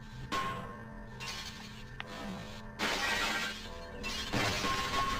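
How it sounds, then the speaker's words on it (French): Glass windows shatter in Half-Life: several sharp, crashing breaks in quick succession, each followed by a bright tinkling spray of shards, close and loud against a low background hum. "Je peux casser les vitres."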